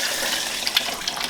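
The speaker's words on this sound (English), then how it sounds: "And then pour your 8 cups of water." Water is poured into a big cooking pot already holding four cups of dry rice, giving a short, close gushing splash that rises and falls as the pot fills.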